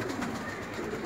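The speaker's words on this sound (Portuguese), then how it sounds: "Pega essa pomba na mão." Homing pigeon cooing softly and close by, a low steady murmur held at an even level for about a second with no talk.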